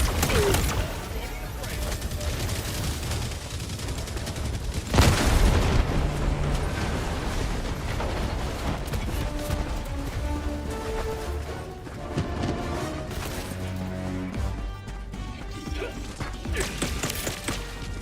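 Helldivers 2 combat: bursts of assault rifle fire mixed with heavy booming explosions, including a loud blast partway through, dense and continuous chaos with voices talking over the action.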